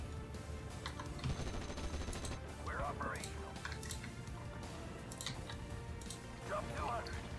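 Distant, fairly quiet gunfire crackles through a Steel Division: Normandy '44 battle in hedgerow country, short sharp bursts scattered over a steady low rumble of combat.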